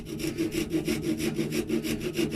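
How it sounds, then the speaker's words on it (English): A small oak ashtray worked with a round rasp, a rhythmic back-and-forth scraping of about a dozen even strokes, close and fairly loud with no voices. "It's quite a thin rasp, so maybe we'll take the round bottom one and open that up a bit"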